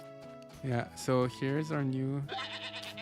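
Goat in the farming game Story of Seasons A Wonderful Life bleating several times in quick succession, with a person briefly talking over the game audio.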